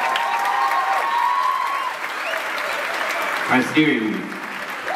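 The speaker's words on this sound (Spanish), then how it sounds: "un aplauso para ella, por favor." Audience applause for folk dance performers at a cultural showcase, a steady wash of clapping throughout with a presenter's amplified voice talking over it.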